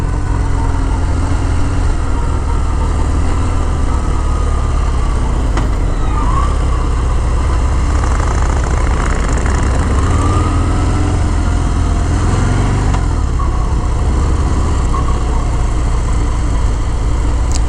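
A loud Harley-Davidson Fat Bob motorcycle engine held at high revs, droning continuously with a harsh, buzzing, very heavy vibration throughout.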